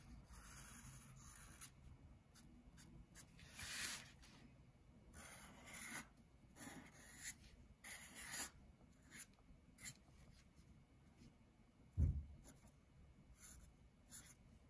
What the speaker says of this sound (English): Let me draw a butterfly here.